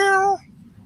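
A single clear, close meow from a house cat wanting to join its owner out on the deck, lasting about a third of a second before fading to quiet room tone.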